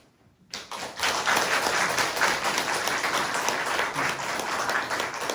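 An indoor church audience breaks into sustained applause after a short quiet start, a dense, even clapping that continues steadily at moderate volume.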